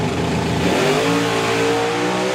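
A drag racing car launches down the eighth mile during qualifying at a European drag racing event, a loud engine roar rising steeply in pitch as it accelerates.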